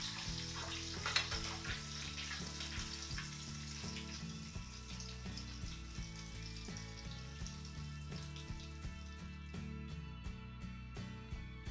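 Potatoes fry in hot oil in a pan with a steady, dense sizzle and crackle that holds even throughout, with a few brighter pops and no voices.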